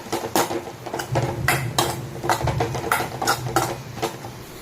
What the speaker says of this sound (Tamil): கரம் மசாலா நல்லா மிக்ஸ் பண்ணி விடுங்க